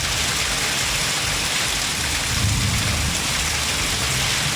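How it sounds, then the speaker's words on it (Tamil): Heavy rain driven by strong wind pours down in a dense, unbroken roar of drops hitting surfaces, loud and steady throughout, with low gusty rumbling underneath and no voices. "பலத்த காற்றுடன் கூடிய கனமழை பெய்த நிலையில் முக்கிய சாலைகளில் நீர் பெருக்கெடுத்து ஓடியது"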